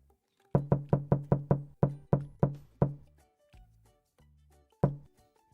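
A burst of rapid, sharp knocks on a door, about eight close together, then a few slower ones, a pause and a last single knock, loud and near with no talking.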